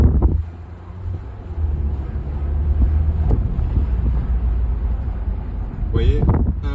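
A VW Passat GTE 1.4 plug-in hybrid engine revs up under steady low rumble and wind buffeting, with a brief voice near the end.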